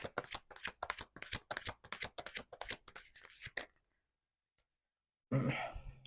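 Tarot cards shuffled by hand in quick, rhythmic riffling bursts for several seconds, then a short silence before a card is drawn with a close rustle and a breath.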